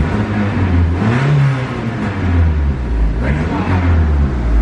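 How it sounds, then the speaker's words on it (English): A 1993 Plymouth Colt Vista engine revs steadily with a throaty exhaust note, rising and falling in a smooth, continuous drone close to the microphone, with no talk over it. "Nice and smooth and a little throaty exhaust."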